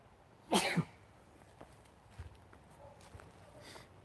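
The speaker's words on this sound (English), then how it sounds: "I'm going to sneeze, hold on" A single sharp sneeze bursts out near the start, followed by quiet rustling and faint soft knocks in a hushed room.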